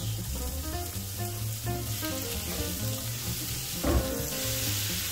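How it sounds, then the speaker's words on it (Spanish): Finely diced onion fries in a little olive oil in a well-used skillet, giving a steady close sizzle with a brief louder crackle when the pieces are stirred, heard without talk. "En este mismo sartén cochambroso le voy a poner tantito aceite de oliva y vamos a poner a freír cebolla picada en cuadritos."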